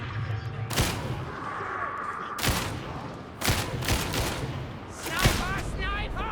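Repeated bursts of gunfire in a Warhammer 40,000 video game battle, with several loud broadband volleys spaced a second or so apart over a steady low background hum, sounding close and sharp.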